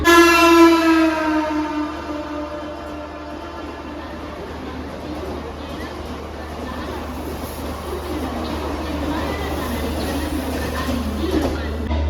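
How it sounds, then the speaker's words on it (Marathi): A MEMU train horn blares briefly at the start, then a heavy rumble of rolling carriages continues steadily as it arrives at the platform, loud and close. "आली आली मेमो ट्रेन आली खास वसईसाठी"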